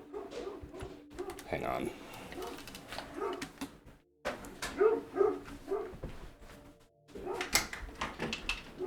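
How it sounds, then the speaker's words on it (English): A pet dog barks indoors in sharp repeated bursts close by, while someone talks and calls to it and game audio plays in the background. "And stop the dog barking."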